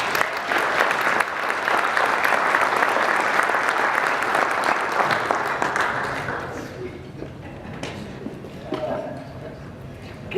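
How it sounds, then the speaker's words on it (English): A conference audience applauds a speaker at an infrastructure investment event. The clapping is dense and loud for about six seconds, then tapers to scattered claps with murmuring voices underneath. "Give Gail a round of applause."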